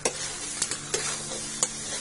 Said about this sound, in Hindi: इसे भी अच्छे से मसालों के साथ भूनना है 4-5 मिनट के लिए